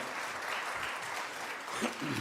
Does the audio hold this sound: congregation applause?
yes